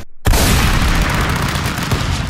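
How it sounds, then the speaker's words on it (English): A gunshot in the video game Stick Fight: a sudden loud, close boom after a brief silence, followed by a dense, roaring sustained blast that continues to the end. "Wait, what was that gunshot?"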